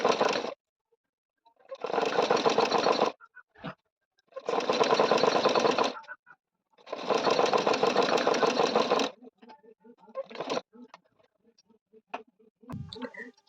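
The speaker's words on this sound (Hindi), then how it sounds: "यहाँ पे लेके और उस पे सिलाई चला दूंगी" A sewing machine stitches along a thin fabric cord in three fast bursts of a few seconds each, separated by pauses, followed by scattered short clicks and taps from handling the machine, all heard close up.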